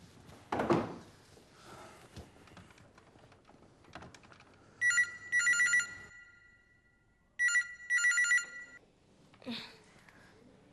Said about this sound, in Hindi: विधि को फोन करो, कंफर्म करो इस बात को